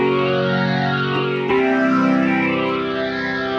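Roland JD-XA synthesizer playing two layered sounds together, a thick sustained chorused tone with a pitch change partway through, loud and alone.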